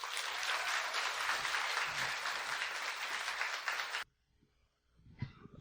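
Loud audience applause with cheering fills a lecture hall at a Marxism conference, welcoming the speaker Joseph Choonara and his interpreter, sustained for about four seconds before stopping abruptly, followed by quiet room noise and a brief thump.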